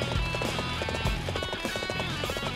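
Horse hooves galloping in the PC game Dynasty Warriors Xtreme Legends, a fast, loud, steady clip-clop rhythm with a brief neigh amid battle noise.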